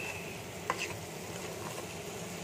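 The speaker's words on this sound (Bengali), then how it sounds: "আর একটু ভাজা ভাজা করে আমি নামিয়ে দেবো" Bombay duck (lote fish) jhuri frying in a pan with a little garam masala, a quiet steady sizzle with one small clink of a utensil, no talk.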